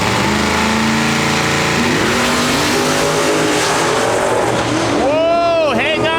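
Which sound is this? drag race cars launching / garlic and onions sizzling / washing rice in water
drag race cars launching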